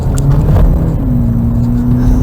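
A 2022 Hyundai Elantra N-line drives and accelerates, its engine rising in pitch as it shifts, with a loud, close interior rumble throughout the short stretch.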